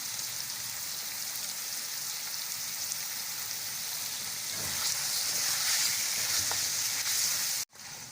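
Tomato and chili masala is stirred in a frying pan, with a steady, soft sizzle and faint scraping that grows slightly louder toward the end before a sharp knock.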